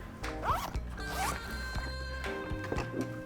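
A zipper rasps along a bag in several quick pulls, close and crisp, with soft handling rustles between strokes.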